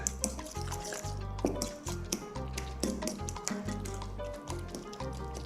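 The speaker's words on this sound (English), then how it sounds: "you're gonna mash down the sardines and simply stir this up real good" A fork mashes sardines and chilies in a bowl and stirs them into a paste, making soft wet squelching and clicking sounds over a steady bed of background music, close and fairly quiet.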